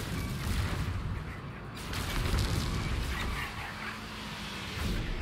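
Weapon fire and explosions from a space combat fight in No Man's Sky, a steady dense rumble of booming blasts and gunfire rolling continuously at moderate loudness, with no talk.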